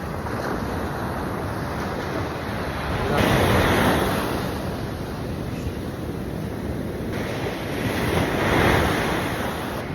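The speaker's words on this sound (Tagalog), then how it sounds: "Grabe yung alon, no? Ang lalakas ng alon, no?" Strong ocean waves crash at Liwliwa Beach, Zambales, in heavy, roaring surges that swell and fade twice, with constant wind rumbling against the microphone.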